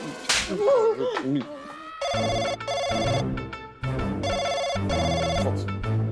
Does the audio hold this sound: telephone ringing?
yes